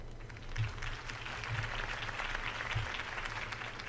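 Crowd applause in the video game Batman: The Telltale Series rolls on steadily at moderate volume, with a low hum and a few muffled thumps beneath it.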